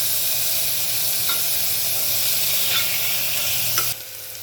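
Chopped onion and tomato sizzle steadily in a hot pan, with a few soft scrapes of stirring before the frying noise drops away near the end.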